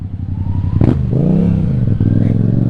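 A Yamaha MT-07 motorcycle with an aftermarket exhaust revs up loudly close by, the engine note rising and falling through a steady drone, with no talk heard.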